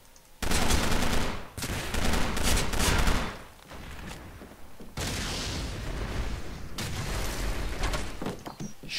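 Video game gunfire and a grenade blast in Arctic Combat: loud bursts of automatic fire in two long volleys, separated by short gaps.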